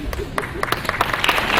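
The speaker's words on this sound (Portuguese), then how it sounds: "Palmas para o Franklin Ferreira." An audience applauding at a round-table discussion event, a burst of scattered hand claps heard close, rising as the clapping spreads through the room.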